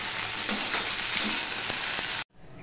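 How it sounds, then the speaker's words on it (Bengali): String beans frying in hot oil without salt or turmeric, a steady dense sizzle with stirring scrapes that cuts off abruptly near the end, leaving quiet background. "নুন হলুদ ছাড়াই কিন্তু আমি ভেজে নেব"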